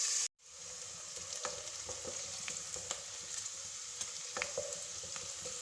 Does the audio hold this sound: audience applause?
no